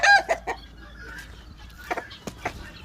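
Farm chickens of mixed laying and meat breeds, just let out of their coops, cluck and squawk close by in short bursts, louder at the start and then scattered and quieter.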